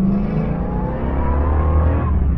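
A 1968 Shelby Mustang GT500 V8 accelerates in first gear on a racetrack, a loud, steady in-car engine roar with rising pitch filling the whole short stretch, no talking.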